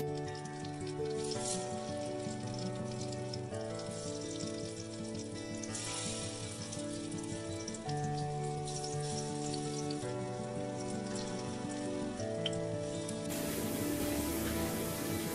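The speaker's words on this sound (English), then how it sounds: "while shallow frying these mushrooms" Mushrooms sizzle and crackle while shallow frying in oil for a mushroom butter masala, a steady spattering fry that continues under a background of sustained musical tones.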